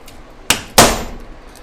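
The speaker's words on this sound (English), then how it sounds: "I got my little hammer here, so I'm going to just punch out these holes." A small hammer strikes twice, punching holes in a carburetor gasket during a generator carburetor repair: two sharp, close metallic knocks a quarter second apart, the second louder, in a quiet room.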